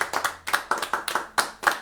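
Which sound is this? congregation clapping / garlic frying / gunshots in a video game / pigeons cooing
congregation clapping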